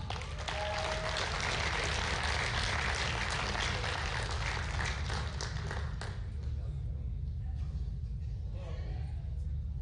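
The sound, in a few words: audience applause for powerlifting gold medal winner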